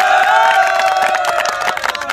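A crowd at a cricket match claps for the two teams, quick sharp hand claps rising through the second half, mixed with voices and a held vocal tone early on.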